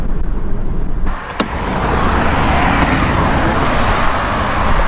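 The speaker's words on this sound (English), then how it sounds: "We started driving on the freeway and the kayak like shifted completely" A car drives on a freeway with a kayak strapped on top, giving steady loud road and wind roar from inside the cabin with a brief dip and a thump partway through.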